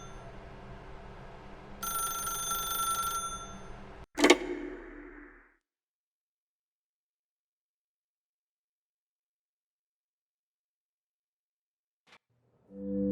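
A telephone rings in The Stanley Parable, a steady electronic ring for a couple of seconds, then a sharp click as it cuts off, followed by long silence and a faint tick near the end.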